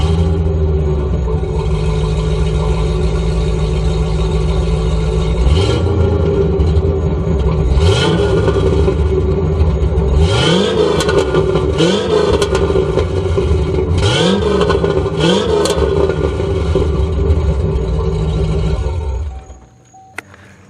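A C4 Corvette V8 idles with a deep, steady rumble, then the engine is blipped and revved several times in loud, rising bursts before it cuts off abruptly near the end.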